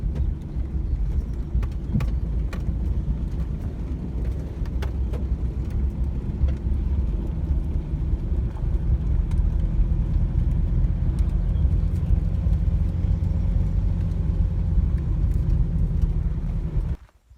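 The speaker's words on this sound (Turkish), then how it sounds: "Abim traktörle gidiyor." A tractor drives on a village farm road in Kastamonu, pulling a fertilizer tank. Its low, steady engine rumble and rattle run continuously at close range, then cut off abruptly at the end.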